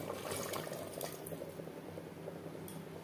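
Water used to rinse spice is poured into a pot of mutton curry with potatoes cooking over high flame, a steady, soft splashing pour heard close but quiet.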